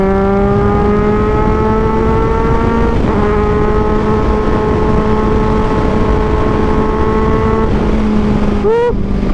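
A 2023 Kawasaki Z1000R naked motorcycle with a 1043cc engine accelerating hard at highway speed makes a loud, close engine howl with rising pitch and clear gear shifts, with strong wind roar throughout.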